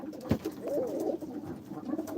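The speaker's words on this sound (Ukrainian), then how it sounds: "На жаль, голубів багато." Soft, low cooing of pigeons, a murmuring warble that rolls on continuously at close range with a brief thump early on.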